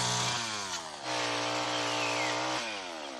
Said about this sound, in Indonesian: Martin sesampainya di hutan dirinya menebang haur menggunakan gergaji mesin tersebut.